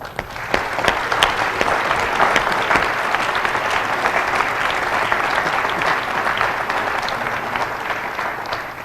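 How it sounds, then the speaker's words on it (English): An audience at a community schools address applauds in a sustained, even round of dense clapping for about nine seconds, without talk. "give yourself a round of applause."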